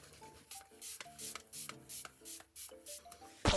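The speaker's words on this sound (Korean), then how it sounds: "달바 스프레이 세럼으로 스킨케어 전에 피부결 한번 정리해줄게요" A d'Alba spray serum is misted onto the face before skincare, giving a rapid run of short, soft hissing spritzes close to the microphone. Gentle background music plays underneath.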